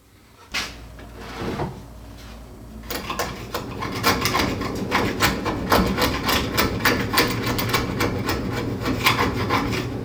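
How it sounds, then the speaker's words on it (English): Repeated rough scraping strokes as extra glue is pried off a wooden kitchen island, starting with a few isolated knocks then settling into steady, close, rhythmic rasping and tapping, no voices. "And we'll just scrape off this extra glue."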